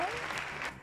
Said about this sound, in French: applaudissements pour les 4 invités